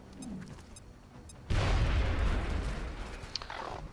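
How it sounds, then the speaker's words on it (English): A grenade explodes in the XCOM: Enemy Unknown video game (Long War mod): a sudden loud blast that rolls into a long rumbling decay, heard alone after a quiet moment. "So I think we'll throw a grenade."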